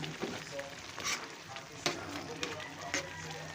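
Sotanghon vermicelli noodles frying and sizzling in a pan, a steady crackle with a few sharper pops and stirring scrapes, close and moderately loud, with no talk.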